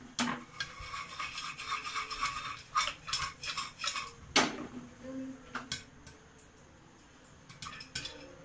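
A covered pot of popcorn being shaken on the stove, giving bursts of close metallic rattling and scraping. The shaking fades near the end, leaving a few isolated clicks and a quiet background.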